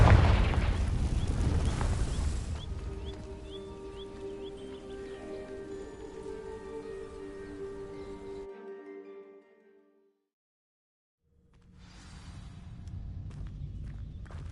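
A Confringo fire spell goes off in a video game, opening with a heavy booming blast and then a long ringing, crackling decay. The sound fades to silence before another rumbling burst rises near the end.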